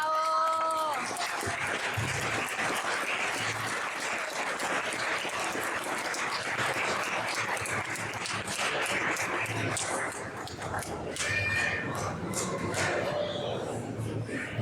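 A large audience applauds at a presentation in Ojuelos, Mexico, with dense, steady clapping for about fifteen seconds alongside scattered cheers and voices in the crowd.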